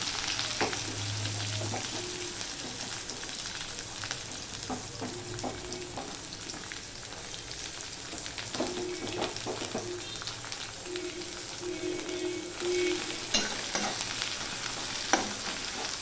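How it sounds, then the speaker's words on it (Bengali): Chopped garlic and onion frying in tempered oil with five-spice seasoning, a steady close sizzle throughout with occasional spoon scrapes and stirring taps, no talking. "এবার আমি দিয়ে দিচ্ছি রসুন কুচি, দিয়ে দিচ্ছি পেঁয়াজ কুচি"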